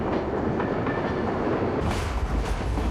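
A train rolls along rails with a steady rumble and rhythmic clickety-clack, close and continuous, swelling louder in the second half as the cars pass.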